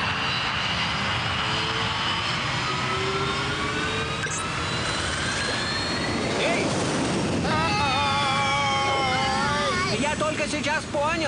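A cartoon jet engine roars with a continuous loud whooshing drone, rising tones sweeping through it and a voice speaking over the top.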